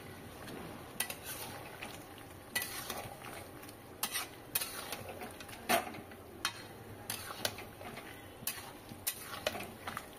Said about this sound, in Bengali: এবার এইভাবে একটু নেড়ে চেড়ে নিতে হবে